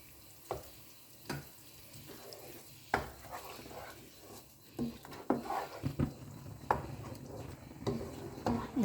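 Three stalks of lemongrass and a blended paste sautéing in oil for a Malaysian chilli-padi chicken curry, a steady low sizzle broken by repeated scraping stirs of a spoon against the pan.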